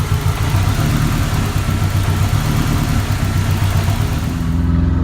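Turbocharged Ford Ranger engine with a lumpy cam and MegaSquirt tuning, a loud, dense, rough mid-pitched engine roar held steady at close range, with no audible talk.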